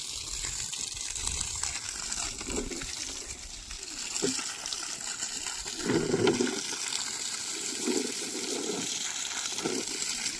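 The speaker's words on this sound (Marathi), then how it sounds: "झाडाला पाणी घालतोय" A garden hose pours water onto plants in a yard, a soft steady gush and splash with louder bursts as the stream hits leaves and soil, while children's voices chatter faintly in the background.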